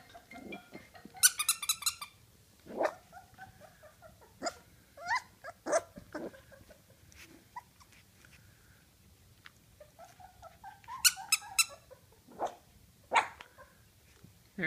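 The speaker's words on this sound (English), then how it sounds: "he's still barking" A puppy barks and yaps repeatedly in scattered bursts, some high-pitched and squeaky, with low growls in between and quiet gaps.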